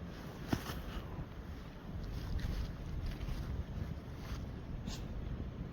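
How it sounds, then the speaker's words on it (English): Steady winter wind rushes and buffets outdoors in woodland near Trenton, Georgia, a low rumbling roar that fills the whole stretch with faint scattered knocks. "And it's windy too"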